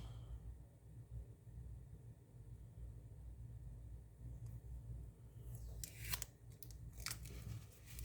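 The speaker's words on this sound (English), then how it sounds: "Let's take the tape off." Tape is peeled off a differential RF amplifier circuit board in a few quick crackling rips near the end, after a long stretch of low, steady background hum.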